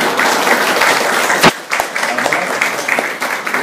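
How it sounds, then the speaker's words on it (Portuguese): A crowd at a talk gives loud, dense, steady applause up close, with one sharper burst of claps partway through. "Quero que vocês recebam com muito carinho uma salva de palmas."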